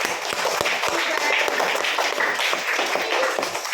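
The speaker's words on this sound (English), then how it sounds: "Clap for me." A group of children claps together in a classroom during an English lesson, a dense, fairly loud patter of many hands that keeps going for several seconds, with little talk over it.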